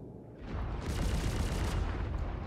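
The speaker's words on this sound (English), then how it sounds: "It's firing those ballistics." Deadbolt 4 ballistic cannons on a Carrack firing in Star Citizen, a dense, continuous roar of rapid heavy shots that swells after the first half-second and holds loud and close throughout.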